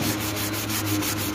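Sandpaper rubs paint runs on a car door sill in quick, even back-and-forth strokes, a close, steady scratchy rasp with no talk.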